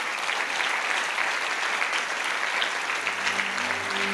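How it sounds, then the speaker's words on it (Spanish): A church congregation claps loudly for Jesus during a Spanish-language sermon, a steady, dense round of applause that keeps going, with a low organ-like tone entering near the end. "¿Le puedes dar un fuerte aplauso al Señor Jesús?"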